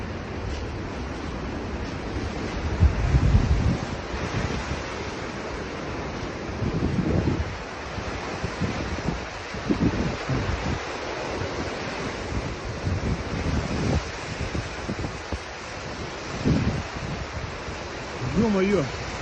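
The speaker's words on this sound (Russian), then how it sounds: "волны цунами." Tsunami waves surge ashore on the Kuril Islands after a magnitude 8.8 earthquake, with heavy wind buffeting the microphone and intermittent low rumbling surf crashes at varying distance.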